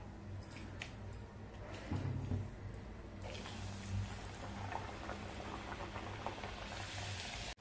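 Puris made from varai (barnyard millet) flour fry in hot oil, giving a steady, close, dense sizzle and bubbling that holds throughout with slight swells, and no talking.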